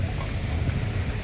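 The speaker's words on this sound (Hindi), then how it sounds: "देखिए बारिश हो रही है बहुत गंदे वाली।" Heavy rain pouring on a road, a dense continuous roar of broadband hiss with strong low rumble, loud and steady, with no voices.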